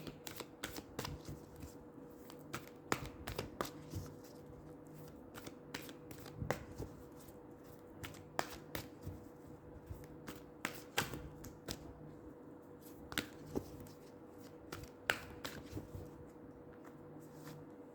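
Tarot cards are shuffled in a quiet room, giving a rapid run of soft riffling slaps and taps that comes in irregular bursts throughout, close up and fairly faint, with no talking.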